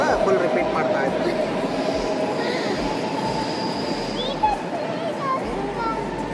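A passenger train bound for Zurich, Switzerland rumbles steadily throughout, with wheel noise and faint squeals close by and background voices and cabin chatter mixed in.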